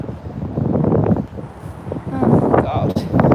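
Gusty wind buffets the microphone under a bridge beside the River Trent during a dog walk, a rough rumbling roar that swells and dips while someone talks over it.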